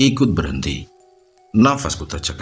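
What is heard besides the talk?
No distinct noise like a dog, phone or traffic.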